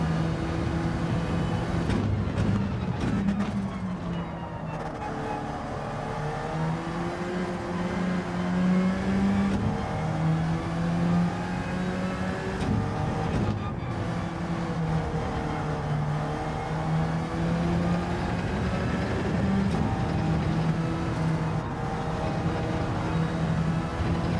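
Race car lapping Laguna Seca heard from onboard, its engine droning loud and steady with pitch rising and falling through gear changes and corners, with no talk over it.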